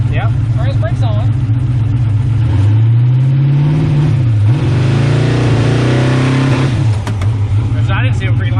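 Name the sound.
turbo LS car revving in first gear on the brake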